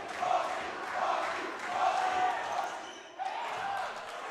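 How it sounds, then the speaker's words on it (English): A high school basketball crowd at a La Salle College High School versus Devon Prep game roars and chants in a steady, loud, rhythmic swell after a missed free throw, with a brief dip before the noise surges back. "That was Frosties, Frosties, Frosties."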